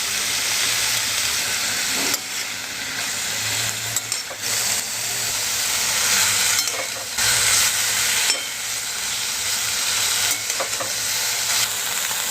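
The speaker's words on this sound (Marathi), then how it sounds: "आता हे सगळं आपल्याला छान परतून घ्यायचं आहे" An onion-tomato chutney mixture with curry leaves is sautéed in a pan, giving a continuous close sizzle and hiss broken by repeated scraping stirs at irregular intervals, with no talking.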